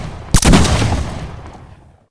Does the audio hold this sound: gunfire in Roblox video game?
yes